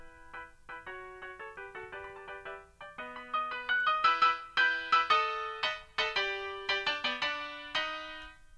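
Spooky piano music for a skeleton boss fight, starting as a quiet run of single notes and building into a louder, denser section of struck chords, played alone.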